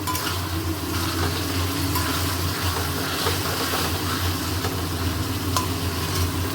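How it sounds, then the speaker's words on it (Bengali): Spices and tomatoes sizzle loudly in a pan while being sautéed, a dense, steady crackling hiss with occasional stirring scrapes and no voices. "মশলা কষা হচ্ছে, টমেটোগুলো দিয়েছেন"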